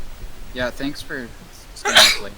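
A single sharp sneeze bursts out near the microphone right after a stretch of casual conversation, loud and brief against the quieter talk.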